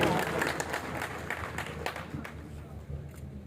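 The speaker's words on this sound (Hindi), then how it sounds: "इतने दूर से आने वाले मेहमान को भरपूर तालियों में उन्हें वेलकम करें।" Audience at a pigeon-flying (kabootar bazi) award ceremony applauds to welcome a guest, a broad, steady wash of clapping with crowd murmur that thins toward the end.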